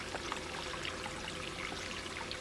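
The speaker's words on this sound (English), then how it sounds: "the water's really screaming fast down across it" Water rushes fast and flat down a sluice box across a washer mat, a steady close hiss and splash with a continuous trickling wash and no pauses.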